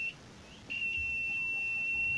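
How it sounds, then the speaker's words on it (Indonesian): A multimeter's continuity buzzer sounds while testing a motorcycle voltage regulator: a short beep, a brief gap, then one steady, sustained high-pitched tone to the end over a quiet background. "Kalau di buzzer ini bunyi bolak-balik."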